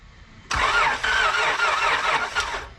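A car engine cranks and churns continuously for a couple of seconds with an uneven, labouring tone but never catches, close and loud with no talking.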